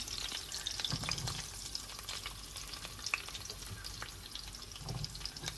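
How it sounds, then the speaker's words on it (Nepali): Potatoes and green chili frying in hot oil while being stirred slowly: a steady, quiet sizzle with light scraping stir strokes, close by and with no talking. "सो तेल ताल्यो, मैले खोर्सानी पनि हालिदिएँ। अब त्यसलाई बिस्तारै चलाउँदैछौँ। यसमा आलु हालौँ।"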